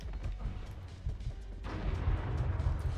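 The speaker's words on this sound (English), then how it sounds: "Oh, grenade!" A grenade in the video game Crime Boss Rockay City bursts into a loud, rumbling blast partway through, after scattered gunfire and thumps.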